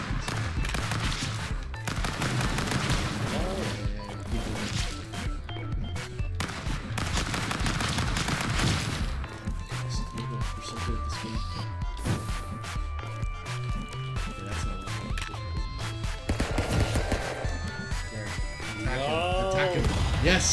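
Rapid, continuous gunfire and impact bursts from the chaotic video game Stick Fight play throughout, loud and busy, mixed with game music, tonal effects and scuffling.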